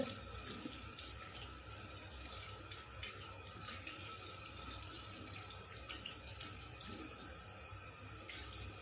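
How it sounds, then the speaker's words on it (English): A tap runs into a bathroom sink as a skincare product is rinsed out of a lid, a quiet continuous splash and trickle with faint clinks. "I just pour it in the sink and wash it out of the lid."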